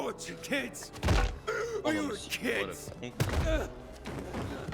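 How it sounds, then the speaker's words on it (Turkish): Repeated heavy thuds as zombies are struck with a table leg in The Walking Dead video game, landing in several blunt impacts under excited overlapping talk from players. "masa ayağıyla vuruyoruz bak"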